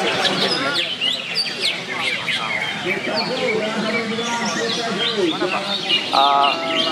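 Lovebirds sing at an outdoor bird contest in Tangerang: a dense, continuous tangle of high chirps and trills from several birds, with people talking throughout.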